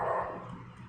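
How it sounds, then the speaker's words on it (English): A dog barks somewhere nearby in a home, its sound blurred and muffled under a steady background hum, with no clear separate bark bursts. "You can probably hear my dog barking."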